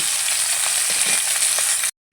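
Rohu fish frying in hot oil gives a steady, dense sizzle that holds at an even level, then cuts off abruptly near the end.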